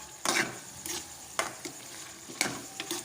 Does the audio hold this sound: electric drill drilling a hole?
no